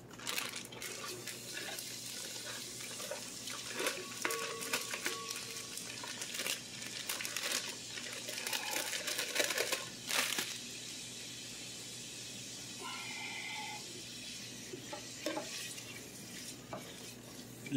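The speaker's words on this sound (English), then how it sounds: "we got a little sizzle in the pan" Onions sizzle in oil in a frying pan, a low, continuous sizzle with scraping stirs and clinks of a utensil against metal throughout, fairly quiet and close.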